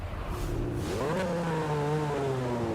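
Lamborghini Essenza SCV12 V12 engine in Forza Horizon 5 revving up, a rising and then gently falling engine tone with a steady game-audio drone beneath, heard alone.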